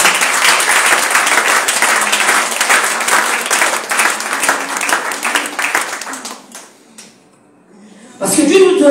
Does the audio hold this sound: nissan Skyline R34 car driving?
no